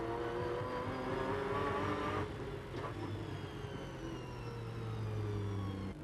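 GT3 race cars, including a Corvette, lap the Nogaro circuit in the 2008 European FIA GT3 championship, engines droning steadily with a swell as one brakes and accelerates out of a slow corner, distant and continuous.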